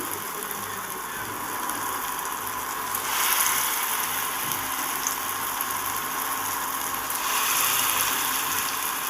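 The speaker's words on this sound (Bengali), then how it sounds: "এবার আমি অল্প অল্প করে ব্যাটারটা দিয়ে আমি বড়ার মতো করে ভেজে নেব খুব ছোট্ট ছোট্ট করে ভাজবো" Small potato-batter fritters frying in hot oil over a medium flame, a loud, dense, continuous sizzle that swells briefly as more batter drops in, close up and without voices.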